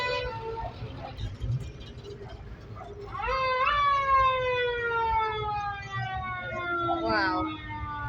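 An old Austin army vehicle at a St George's Day classic car parade sounds its horn in a wavering, sliding blare over crowd and engine noise outdoors, with a second shorter blast near the end.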